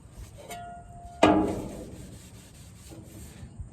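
Used engine oil being rubbed into a wooden surface with a rag: a brief scratchy pass near the start, then a louder soft rubbing swipe that tapers off, close and quiet with no talk.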